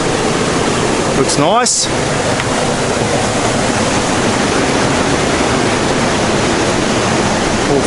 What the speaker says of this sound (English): All flowing over sandstone.